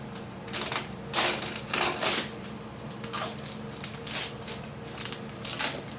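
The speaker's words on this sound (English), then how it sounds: "Now we can pull the tape." Tape is peeled off a glued switch in a shop in several quick, crackling tugs, faint and close, with short pauses between the ripping bursts.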